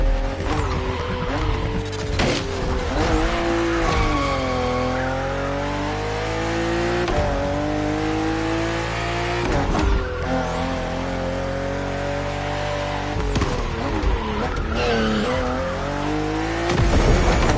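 BMW M4 CSL racing on a track in the video game The Crew Motorfest, its engine roaring loudly and continuously, with rising and falling rev sweeps and repeated gear shifts, tires squealing through corners.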